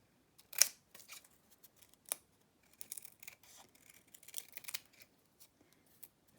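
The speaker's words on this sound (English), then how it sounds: "I'm just gonna cut one more piece out." Scissors snip through crepe paper in a quiet room: a sharp cut near the start, then a scattering of soft, crisp snips and paper rustles, with no talking.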